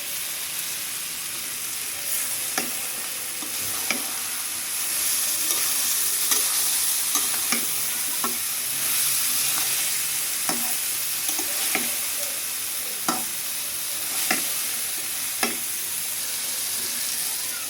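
Jujube and tamarind pickle cooking with vinegar in a pan, a steady sizzle running throughout, broken by frequent short spoon scrapes and taps at an irregular pace, close and fairly loud.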